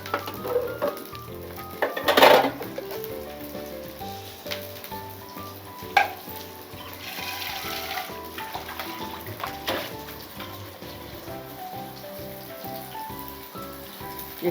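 Ingredients splutter and crackle steadily in a hot frying pan at close range, with a sharp burst of popping near the start and a constant sizzle beneath, no voices.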